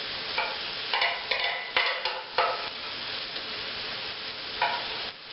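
Caramelized onion sizzles on a catering grill, with a soft steady fry broken by several sharp scrapes and clinks of a spatula as it is moved about, heard alone with no talk.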